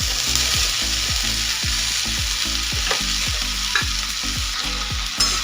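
Spring onion greens fry in a pan under a constant sizzle, with regular stirring strokes about twice a second scraping through the hiss. No voices are heard.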